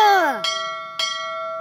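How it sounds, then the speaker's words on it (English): Bells ring in a cartoon: a descending tone, then two clear metallic strikes with long sustained ringing overtones, loud and close. "That's 3 bells."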